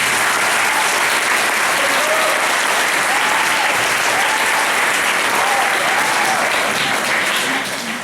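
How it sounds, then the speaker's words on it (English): Steady, loud applause from a large audience at a middle school band concert, sustained throughout and tapering slightly at the end. "So a round of applause for those students."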